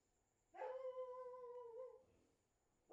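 A pet dog lets out one sustained howl lasting about a second and a half, loud and close, with a steady pitch that dips slightly before trailing off, in a quiet room during a live comics show.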